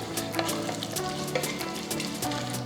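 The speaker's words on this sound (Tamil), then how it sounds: "கடுகு பொரிய ஆரம்பிச்சிருச்சு." Mustard seeds spatter and pop rapidly in hot oil while tempering for a horse gram rice dish, a dense crackling sizzle with sharp little bursts throughout, close and steady.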